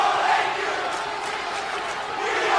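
Wrestling arena crowd in the WWE 2K19 video game, a dense, steady roar of cheering and shouting that holds throughout, with no pauses.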